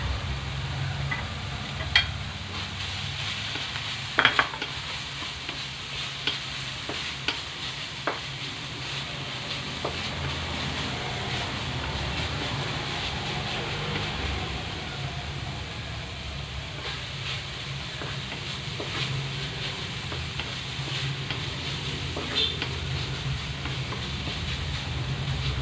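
Green chili sizzles in a pan for bangus sisig, a steady close frying hiss broken by a few light clicks of the spatula against the pan.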